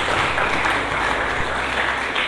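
A church congregation claps together in dense, continuous applause that fills the room evenly and loudly throughout.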